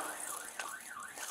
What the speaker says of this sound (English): Your alarm's going off!